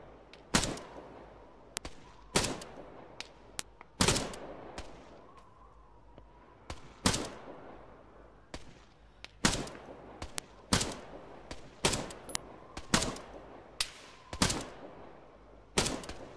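Repeated rifle shots in Arma 3's Namalsk Exile mode, fired at long range: a steady string of some fifteen loud, crisp cracks with short echoing tails, spaced a second or so apart, and no voices.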